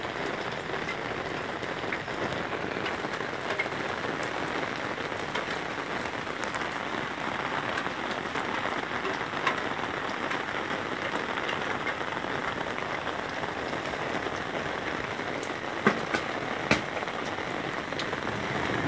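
Heavy summer rain pours down steadily and close, a dense, even hiss of drops drumming on surfaces for the whole stretch, with no talking and only occasional louder splats.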